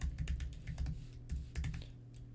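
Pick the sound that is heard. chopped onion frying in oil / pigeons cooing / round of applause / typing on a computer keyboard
typing on a computer keyboard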